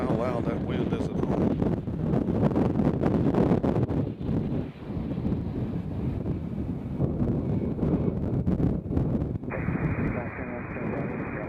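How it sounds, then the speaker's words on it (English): Wind buffets the microphone outdoors at Nashville International Airport, a loud, continuous low rumble and roar with gusty fluctuations, and a person talks through part of it. "Because I don't know how loud that wind is at home."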